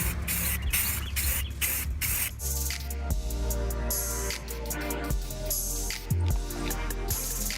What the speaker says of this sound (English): whenever you paint, you don't just want to spray